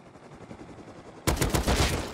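A shotgun trap goes off in a video game, a sudden loud blast cutting in after a quieter stretch, followed by sustained booming gunfire and rumble with no talk.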